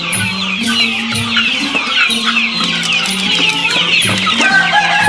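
Young Phu Phan black chickens, a mixed flock of Phu Phan 1 and 2 birds on a farm in Samut Sakhon, cluck continuously and densely, many overlapping calls close by with no talking.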